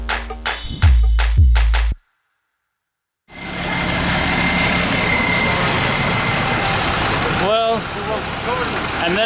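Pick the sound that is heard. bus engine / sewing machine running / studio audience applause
bus engine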